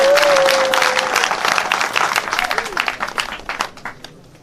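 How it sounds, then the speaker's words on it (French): Audience applause at a celebration-of-life gathering, dense clapping that starts loud and thins into scattered individual claps toward the end, with a brief voice and a whistle-like tone near the start. "applaudissez pour elle"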